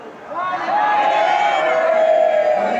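A devotional crowd in Nandgaon, Braj, shouts praise to Radha Rani in unison, a loud sustained roar of massed voices that swells after a brief softer start.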